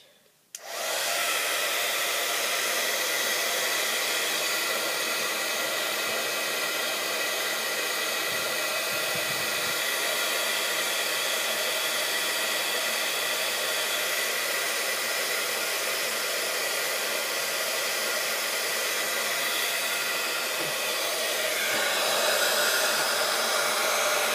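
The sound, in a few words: hair dryer drying a decoration piece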